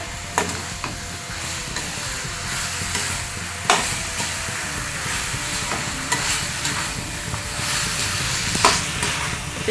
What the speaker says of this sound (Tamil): இப்போ வந்து நான் சிக்கன் போட்டுக்கிறேன் நல்லா சிக்கன் போட்டு நல்லா மசாலாவோட வதக்கிடுங்க